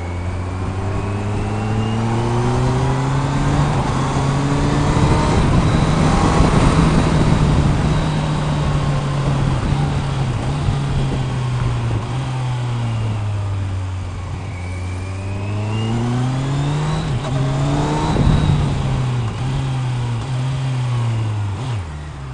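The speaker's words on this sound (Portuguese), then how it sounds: "A moto sem gasolina nenhuma, velho." Motorcycle engine running steadily while riding on the road, a loud continuous drone with rising and falling revs throughout, no talk.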